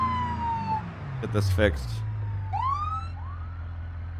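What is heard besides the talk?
police siren passing in video game BeamMP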